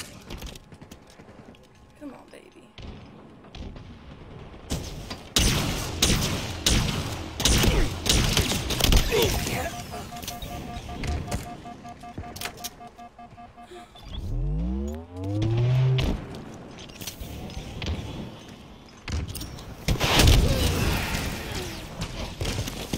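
Video game combat fills the scene with bursts of gunfire, sharp impacts and a rising engine-like whine, layered and loud, while players talk and shout over it.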